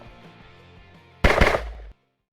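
Gunfire from a lift guard shooting in an action film about a former special forces soldier: a sudden loud burst of rapid shots lasting under a second, following a quieter music bed and ending abruptly in silence.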